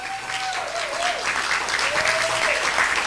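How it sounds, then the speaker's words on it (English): Audience applause for Tom Hayden after his talk on California and climate change, dense and steady clapping from a room of people, with a tonal sweeping sound running through it. "Let's give him another round of applause."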